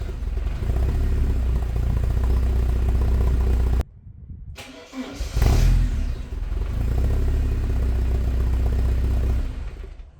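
Porsche 944 engine on a newly rebuilt starter motor: steady loud running, a brief cut to near silence, then a cranking catch and the engine settling back into a continuous close idle.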